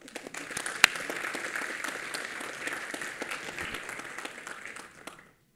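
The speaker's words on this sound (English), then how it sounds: "a very big round of applause to Joyce" An audience applauds steadily for a colleague at a university computer science department's 25th anniversary event, a dense wash of clapping with one sharp loud clap near the start, fading out after about five seconds.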